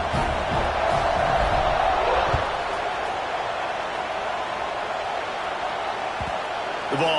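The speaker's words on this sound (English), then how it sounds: "this crowd is buzzing after that last score" A large stadium crowd in an NCAA football video game murmurs and roars steadily in a dense, continuous wash of noise, with a commentator talking over it.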